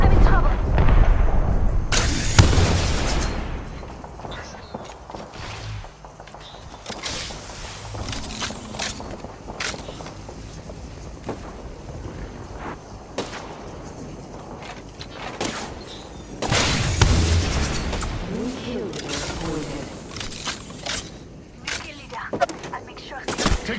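Gunfire strikes the player in a battle royale shooter, loud bursts of impacts and shots in several clusters mixed with footsteps and mechanical clatter, with voices talking in between.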